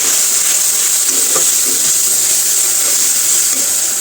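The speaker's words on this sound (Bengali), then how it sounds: "তখন মশলাটা কষিয়ে নেবো ভালোভাবে কষিয়ে নেবো" Ginger, garlic and green chilli paste sizzles steadily in a hot pan while the masala is stir-fried. The hiss is constant and close, with occasional soft scraping and no voices.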